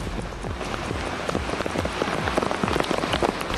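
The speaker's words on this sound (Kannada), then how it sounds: "ಚಾಮರಾಜನಗರ ಜಿಲ್ಲೆಯಲ್ಲಿ ಧಾರಾಕಾರವಾಗಿ ಮಳೆ ಸುರಿತಾ ಇದೆ." Torrential rain pours steadily in Chamarajanagar district during heavy monsoon flooding, a dense continuous hiss of rain on surfaces with scattered close raindrop hits, loud and unbroken throughout with no talk.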